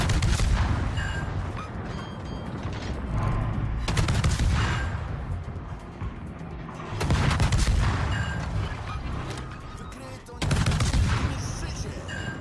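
Heavy naval gunfire from a destroyer in World of Warships, repeated broad booming salvos about every three seconds with rumbling tails, loud and close, with someone talking under them at times.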